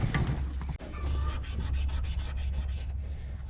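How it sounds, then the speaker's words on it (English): Ice scraper rubbing and scraping along a detached frame rail on an old Plymouth Cuda 340 project car, a steady close gritty scrape with a short pause near the start, no talking. "Got an old squeegee. Or an ice scraper, I should say."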